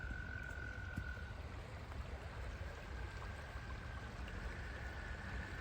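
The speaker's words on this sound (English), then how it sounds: "Can hear the frogs going." A dense chorus of frogs croaks continuously in the distance, a steady trilling wash over faint flowing water.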